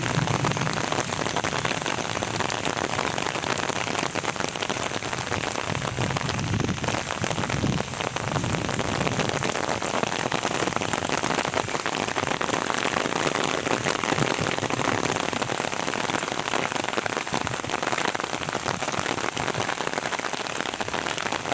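Heavy rain in a Jharkhand village falls in a steady, dense roar that stays loud and unbroken throughout, with no voices.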